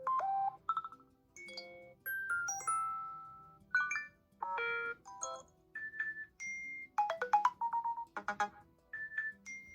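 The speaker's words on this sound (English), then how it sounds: "And now let's go through the alert tones as well." iOS 7 alert tones play one after another as short electronic chimes, dings and blips, each lasting a second or less, separated by brief gaps and heard alone.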